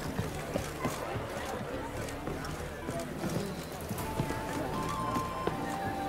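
In The Witcher 3, a horse gallops with steady, rapid clip-clop hoofbeats on the ground. The hooves run continuously at a moderate level, under ambient game noise.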